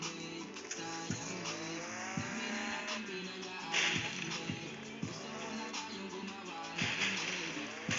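An in-game car engine revs and hums steadily throughout, with repeated surges and a few sharp accents, moderately loud with no speech over it.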